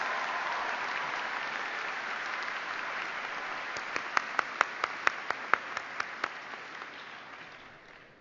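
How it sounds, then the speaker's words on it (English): An audience gives a sustained round of applause for student leaders at a university convocation, a steady dense clapping wash with a few sharp, closer individual claps standing out near the end before it fades. "How about a collective round of applause for these amazing student leaders?"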